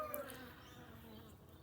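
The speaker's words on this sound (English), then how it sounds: "the bees, what were foraging, came through here and went straight in the hive" Honey bees buzzing around a hive where a brush was placed at the entrance, a faint close hum with brief louder passes, no voices.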